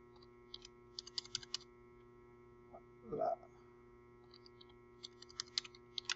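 Someone types on a computer keyboard in light, scattered bursts of clicks, fairly close, with a short vocal sound near the middle over a faint steady hum.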